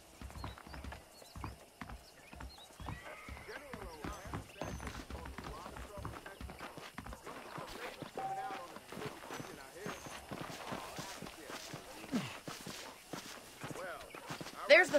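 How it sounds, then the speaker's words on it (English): Horse hooves clip-clop at a walking pace in the Red Dead Redemption video game, with regular close hoof strikes continuing over someone talking, plus faint saddle creaks and ambient game sound. "I picked out a fine horse for you."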